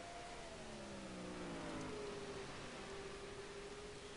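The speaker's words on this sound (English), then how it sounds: "these sounds that the race car sounds that you guys are hearing right now" Limited late model race cars at Lee USA Speedway drone in the distance, a faint rising and falling engine whine over a steady hiss of track-side noise.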